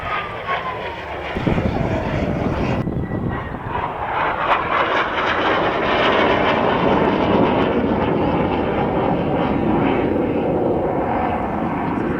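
A Hawker Hunter jet with a Rolls-Royce Avon engine roars past at an airshow, a loud sustained rushing roar that swells and holds, with a voice talking underneath.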